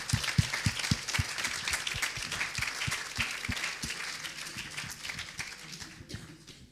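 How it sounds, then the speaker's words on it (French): Audience applause after short research presentations on the brain and cognition, with distinct individual claps standing out over a steady wash of clapping that gradually fades away. "je pense qu'on peut les applaudir à nouveau"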